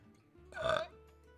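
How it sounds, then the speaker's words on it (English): A single short adult burp, loud and close, rising and fading within about half a second over a quiet room. "Oh, I burped."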